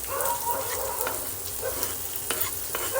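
Chopped tomatoes stirred into lightly fried onion sizzling in a pan for paneer bhurji, a steady crackling sizzle with scraping stirring strokes, close and continuous.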